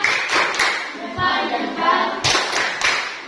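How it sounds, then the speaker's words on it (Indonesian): Schoolchildren in a classroom performing a patterned group clap for a student team, short bursts of clapping separated by brief gaps, with a few soft thumps and some chanting voices between the claps. "kita kasih tepuk salut dulu untuk kelompok Soekarno. Tepuk salut."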